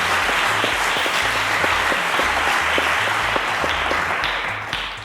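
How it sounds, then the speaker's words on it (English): Loud studio audience applause for a quiz show contestant, dense continuous clapping with a low rhythmic musical pulse underneath, easing slightly at the very end. "A round of applause to him, ladies and gentlemen."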